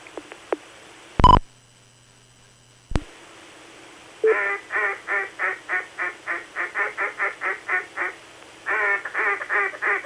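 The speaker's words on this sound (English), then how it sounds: "Now we got a duck added to the menagerie." A duck quacks in a quick, rhythmic run of about a dozen calls, pauses briefly, then quacks a few more times. A couple of sharp clicks come earlier.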